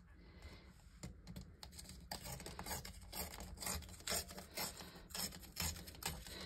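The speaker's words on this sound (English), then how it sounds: "I am a fan of tearing, so I've just took about half an inch or so, centimetre off each end" A strip of A4 paper is torn off in a series of close, rapid ripping and crackling bursts, heard alone.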